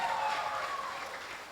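An audience applauds steadily at a Tiens business recognition event in Bintulu, a dense, continuous wash of clapping that holds at an even level and fades only slightly toward the end, with no voices standing out.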